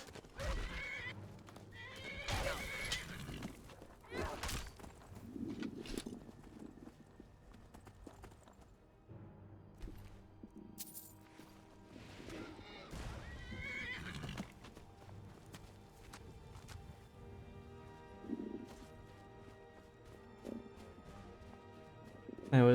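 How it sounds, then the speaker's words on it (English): A horse neighs and whinnies in the open world of the game Skyrim, with clip-clopping hooves, several loud bursts over game ambience and music, and a bit of faint talk. "Why is there a random horse out here?"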